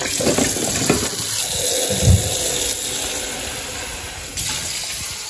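Tap water runs into a sink to soak a new frying pan, a steady close gush of water splashing with a brief louder clatter partway through.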